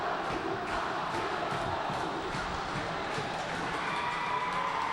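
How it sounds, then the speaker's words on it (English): Portland high school hockey fans cheer and shout during a 2000 quarterfinal against Cheverus, a steady roar of crowd noise filling an ice rink with no pauses. "the Portland cheering section has come alive"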